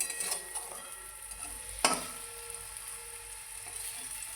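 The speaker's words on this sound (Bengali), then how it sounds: "এই যে এগুলো আর একটু তেলে ভেজে নেব" Eggplant slices frying in oil in a pan, a steady soft sizzle with a sharp clink of a utensil against the pan partway through, quiet and close with no talking.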